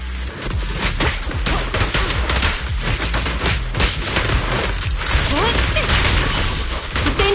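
Dense, continuous gunfire from a Zenless Zone Zero battle, with overlapping shots and impacts crowding together at a steady loud level for the whole stretch, faint voice fragments mixed in.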